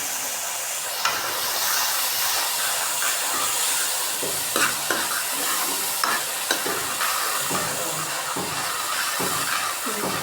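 Masala for a black chickpea gravy fries in a pan with a steady, hissing sizzle, while a spoon scrapes and stirs through it in irregular strokes; no voices.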